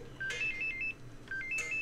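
A work phone rings twice in quick succession, each burst a bright electronic ringtone melody, fairly close and with no one speaking.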